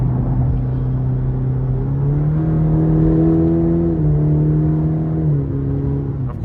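A 2023 Cadillac CT4-V with a 2.7-litre turbo four-cylinder accelerating, heard from inside as a loud, steady engine drone that rises in pitch, levels off and then eases slightly.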